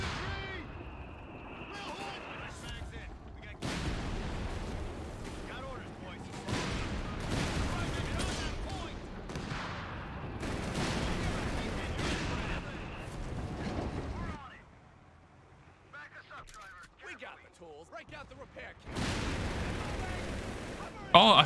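Nebelwerfer rockets and artillery fire in the strategy game Company of Heroes 3, with repeated booming blasts and rumbling impacts in bursts, a quieter stretch midway, and someone talking over much of it.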